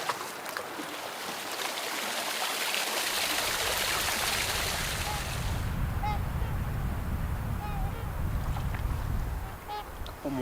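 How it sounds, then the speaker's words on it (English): Swans honk faintly on Lake of the Woods, a few scattered calls partly buried under a steady boat engine drone and the rush of water. "Couple more swans going by."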